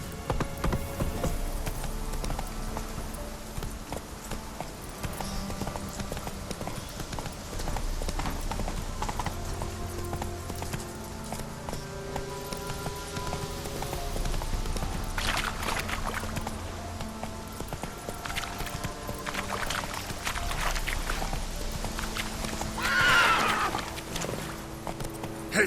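Horse hooves clip-clopping at a steady gallop in The Witcher 3 game, a continuous rhythmic clatter over a musical backdrop, with a brief whinny near the end.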